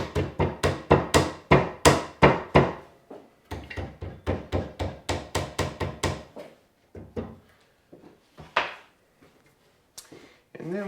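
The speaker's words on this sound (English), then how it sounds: "I'm going to tap these in and center them as best I can" Maple bookshelf pieces are tapped into slots with a series of sharp knocks. The knocks come in quick rhythmic runs, then thin out into scattered, softer hits with short gaps of quiet.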